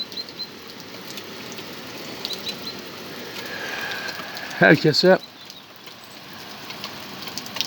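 Light rain patters steadily outdoors on a rainy day, a soft constant hiss of drops under someone speaking Turkish briefly near the middle.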